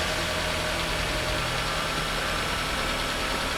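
A Hyundai NF Sonata engine idles steadily, a continuous low rumble with a faint mechanical hum, close and even throughout with no voices.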